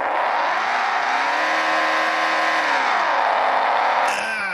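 Race car in a racing video game lapping the Phoenix oval, its engine holding a loud, steady high drone that dips and swells through the turns, close and continuous.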